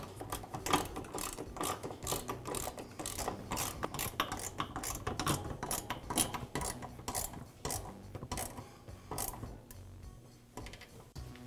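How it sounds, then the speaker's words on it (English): Rapid metallic clicking and ratcheting as screws are driven to secure a new gas regulator to the frame of a Weber grill, close and steady, with no talking. "now I can secure it with the screws"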